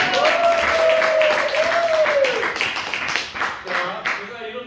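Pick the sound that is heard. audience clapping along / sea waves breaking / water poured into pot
audience clapping along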